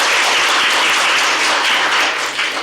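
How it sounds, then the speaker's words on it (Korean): Dense, steady applause from a seated audience at a Korean political forum, loud and continuous with no talk over it. "다시 한번 큰 박수 부탁드리겠습니다"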